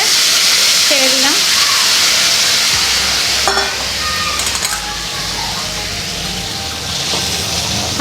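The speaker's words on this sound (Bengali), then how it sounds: "এবার ঢেলে রাখা মাছটা আমি কড়ার মধ্যে ছেড়ে দিলাম।" Fish slides into hot oil in a wok, setting off a loud, steady sizzle and crackle right up close. It is part of a bottle gourd curry being cooked, and a few metallic clinks and a low hum join the frying partway through.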